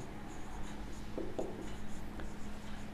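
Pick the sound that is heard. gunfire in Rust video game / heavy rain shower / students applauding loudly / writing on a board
writing on a board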